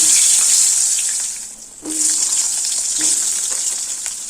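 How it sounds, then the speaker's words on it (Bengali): Thick strips of potato frying in hot oil on a gas stove, a steady loud hiss of sizzling with a brief dip midway as pieces are added or moved, then full crackling again. "বড়ি তুলে নিয়ে ওই তেলে এবার আলু ভেজে নেব।"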